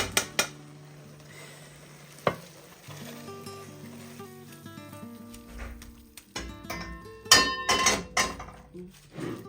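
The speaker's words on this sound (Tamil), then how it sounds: "இனி இப்படியே கிளறி போட்டு" A spoon stirs thick, sweet thothal mixture scented with cardamom in a metal pot, scraping and clanking in irregular strokes, with sharp knocks against the rim and faint sizzling between.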